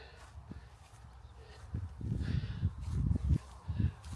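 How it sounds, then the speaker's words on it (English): Footsteps crunch over frozen ground, a series of close, crisp steps growing louder and more frequent toward the end. "Frost crunching under my feet."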